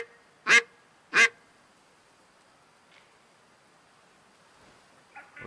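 Lesser snow geese call as they fly in within the hunting game Way of the Hunter: two loud, close honks about half a second apart, then faint scattered calls over a quiet open background.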